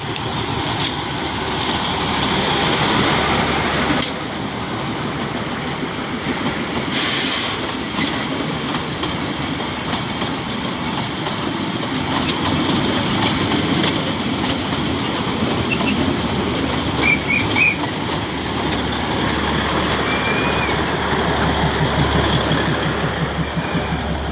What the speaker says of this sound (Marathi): माथेरानची मिनी ट्रेन आलेली आहे